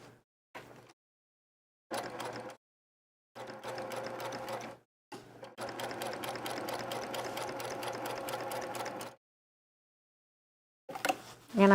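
A sewing machine stitching quilt fabric, running in short bursts broken by silent pauses, then one longer steady run of rapid needle clatter, close and moderately loud.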